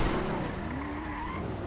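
Car skidding under braking in a racing video game, a sustained tyre squeal gliding in pitch over a steady engine drone, loud and continuous.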